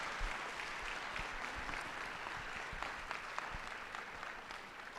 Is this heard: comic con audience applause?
yes